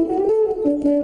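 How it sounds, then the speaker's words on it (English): A French horn plays a short, smooth, sustained melodic phrase of a few held notes, clear and close with nothing else over it. "Yes, it sounds just like the horn."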